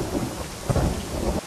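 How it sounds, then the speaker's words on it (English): Heavy rain roars steadily while a deep roll of thunder swells in the middle and rumbles on, fairly close, in a film scene. "Heavy rain."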